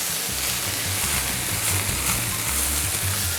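Veggie fried rice with tofu being stir-fried in a hot pan: steady, loud, close sizzling with soft scraping and tossing sounds from the spatula throughout, no talking.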